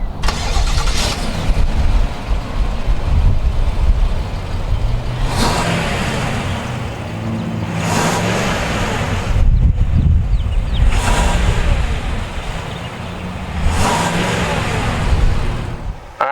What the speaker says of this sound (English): let's go ahead and fire up this beast and see what it sounds like.